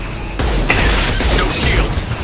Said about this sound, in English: Multiple impacts. Collector vessel is taking damage.